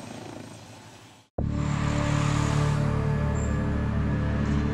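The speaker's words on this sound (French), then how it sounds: "Marc visionne une nouvelle fois les images de l'hélicoptère qui a localisé David" A gendarmerie helicopter cuts in abruptly after a brief silence, its engine and rotor drone holding steady and loud for the rest of the clip, with no voices.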